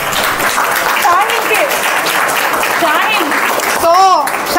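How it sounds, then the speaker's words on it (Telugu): Audience applause at a large beauty-parlour seminar in Anantapur, a steady wash of clapping lasting throughout while a voice talks over it. "సో మేడంకి ఒక్కసారి గట్టిగా క్లాప్స్ అండి"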